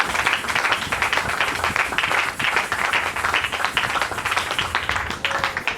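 A church congregation applauding and cheering after a sermon, continuous dense clapping from many hands with crowd voices mixed in, steady and fairly loud throughout.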